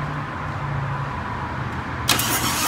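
A 2018 Harley-Davidson Road King SP motorcycle with a 107 cubic inch engine starting up, a low steady hum followed by a sudden burst as the engine catches near the end.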